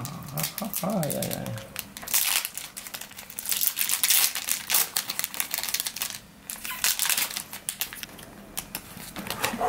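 A foil booster-pack wrapper for the My Little Pony trading card game, Power Ponies set, is torn and crinkled open up close in busy, irregular bursts of crackling while a voice talks over it.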